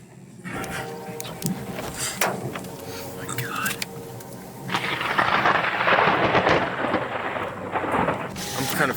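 Thunderstorm in storm-chasing footage, with rumbling thunder and rain-like hiss that swells into a loud, sustained roar in the second half; a voice talks over the first part.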